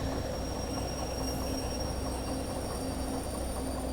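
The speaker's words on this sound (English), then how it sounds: "I'm gonna add in train brake." Steady rumbling rail noise of a steam-hauled train braking at the back of a siding in Derail Valley, with a continuous low roar and faint tonal hum and no talk.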